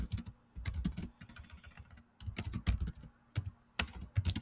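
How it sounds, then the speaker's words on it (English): Steady typing on a computer keyboard, bursts of quick key clatter broken by short pauses, close and moderately loud with no talking. "I got to work on my typing."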